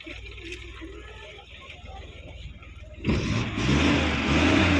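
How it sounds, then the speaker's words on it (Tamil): A 2009 Maruti Omni van with a carburettor engine idles quietly, then revs up sharply and holds a louder, steady rev, close by. "வண்டியை ரேஸ் பண்ணி காமிக்கிறேன்."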